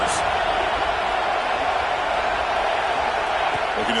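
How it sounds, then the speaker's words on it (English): A constant, dense roar of a stadium crowd in a football video game, loud and unbroken for the whole stretch, with a brief whoop near the start and faint commentary underneath. "Listen to the crowd energy here in the early going."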